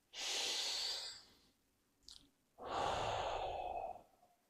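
Two calming deep breaths, a long airy inhale and a long sighing exhale separated by a brief pause with a small click, close and clear, with no talking.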